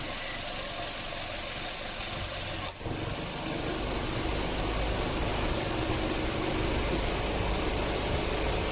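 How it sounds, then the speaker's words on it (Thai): An engine runs steadily with a constant whirring hum and faint squeal; a brief click-like dip interrupts it once before the drone continues. "เสียงการทำงานของคอมเพรสเซอร์ดีขึ้นนะครับ"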